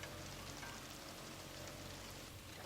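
Steady, faint rainfall in the LA Noire video game, an even hiss of drops on surfaces with no other sounds for a few seconds.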